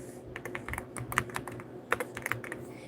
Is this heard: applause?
no